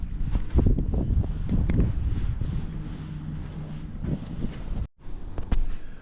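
Wind gusts buffet a microphone on a sailboat in the Whitsundays, giving a rough, rumbling roar with uneven bursts. One brief dropout breaks the noise near the end, and no one speaks.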